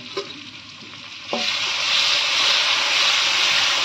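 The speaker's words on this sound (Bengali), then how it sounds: "আলু ভাজা হয়ে গেছে, এবার আনারস দিলাম।" Potatoes fry in a pan. After a couple of quiet clicks, the oil bursts into a loud, close, steady hissing sizzle that holds to the end.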